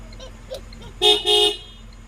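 A bus horn gives two short, loud honks in quick succession, the second slightly longer, against a quiet background.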